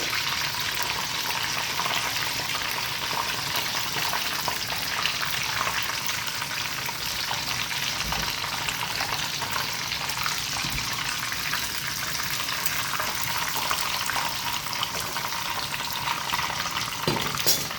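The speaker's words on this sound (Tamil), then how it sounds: "இப்படி வந்து எல்லா தென்தோசையும் பொரிச்சிட்டு உங்களுக்கு காட்டுறேன்" Chicken tenders fry in hot oil with a steady, continuous sizzle and crackle, close and fairly quiet, without voices.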